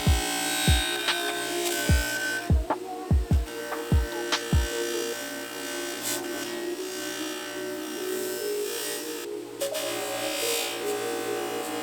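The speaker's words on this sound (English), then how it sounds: "That rough wheel really smooths things out nicely." A bench grinder's rough wheel smooths a sand-cast aluminium motorcycle suspension part. A steady motor buzz and whine runs throughout, with a run of sharp low knocks in the first few seconds.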